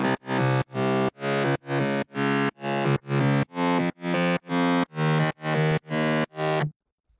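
First layer of a synthesized drop bass in an electronic track: about a dozen loud, gritty, distorted pulses in an even rhythm, then a sudden cutoff into silence.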